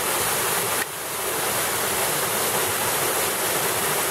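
A series of waterfalls at Mil Cascadas in Guerrero, Mexico, makes a loud, steady, broadband roar of rushing water that fills the whole stretch with no voices.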